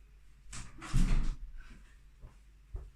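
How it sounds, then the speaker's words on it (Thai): A door swinging shut indoors gives a loud thud and rattle near the middle, then a couple of softer knocks follow in a quiet room. "ปิดประตูแล้ว"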